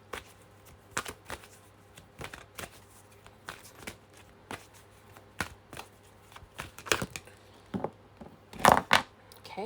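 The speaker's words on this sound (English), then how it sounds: "Keep shuffling, they say." Tarot cards are shuffled by hand nearby, giving a steady series of sharp slaps and riffles about every half second, growing busier and louder toward the end over a faint hum.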